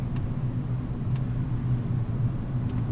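Steady low engine drone of a car with a manual gearbox, held through acceleration in town at around 50 km/h while shifting up from fourth to fifth gear, continuous and fairly loud with no talk.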